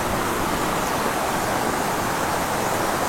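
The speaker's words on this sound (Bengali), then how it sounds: "দেখুন কি স্রোত, ভীষণ স্রোত কিন্তু এই নদীতে" A strong river current in West Bengal rushes past, a dense, even roar of flowing water, loud and close and steady throughout, with no voices.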